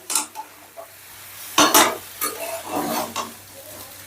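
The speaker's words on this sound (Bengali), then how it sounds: "রাইস আর আলুটা 2-3 মিনিটের মতন কষে নিয়ে" Rice and potatoes are stir-fried in a pan, with a few scattered scrapes and clinks of a spatula over a soft sizzle, close and intermittent.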